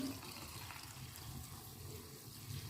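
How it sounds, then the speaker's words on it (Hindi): Leftover dal cooking water being poured into a pot for chana dal khichdi, a quiet, continuous pouring and splashing with no voices. "ये वो वाला पानी है जो दाल के उबालने से उबाला था, वो भी पानी मैं इसमें शामिल कर रही हूँ।"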